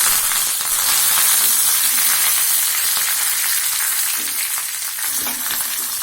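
Curry leaves hit hot oil in a Tamil-style tempering for green peas sundal, giving a loud, continuous crackling sizzle that stays close and even throughout, with no talking over it.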